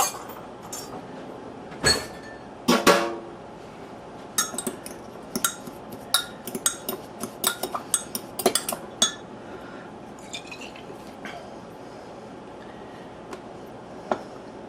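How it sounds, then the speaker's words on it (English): Spoon clinking against a bowl while brown sugar is stirred into a mixture for a salted sirloin tip roast, with scattered light metallic taps and scrapes over several seconds, fairly close, no talking. "Stir it around a little."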